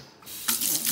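A tap runs water to rinse a soapy makeup brush, a close, full rush of water that swells after a quiet start, with splashing bursts as the brush moves under the stream.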